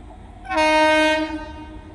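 A train horn sounds near the Bahanaga railway line, a loud steady blast that rings for under a second and then fades against a low rumble.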